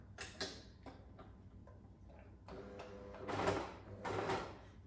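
A sewing machine topstitches the layered fabric of a bunny-shaped handbag pouch, with a quiet ticking start and then a louder run of rapid mechanical stitching, close and without talk.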